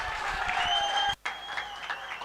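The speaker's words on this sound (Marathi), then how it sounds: "त्याने मारलेला षटकार आवडला असेल तर टाळ्या व्हायला हरकत नाहीये" A crowd at a rainy-season cricket match claps for a six, a brief burst of applause cut by a short silence before it carries on.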